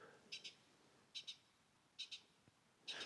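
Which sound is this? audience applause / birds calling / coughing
birds calling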